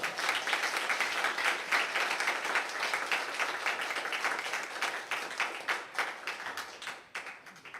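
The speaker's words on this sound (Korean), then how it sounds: "우리 목사님 박수로 환영해서 모시도록 하겠습니다" A church congregation claps to welcome a pastor to the pulpit, a dense, even patter of many hands that holds steady for several seconds before thinning and tapering off toward the end.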